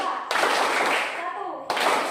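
Children clapping in a counting game led by a teacher in a classroom, two sharp bursts of group claps separated by a short pause, with kids' voices mixed in.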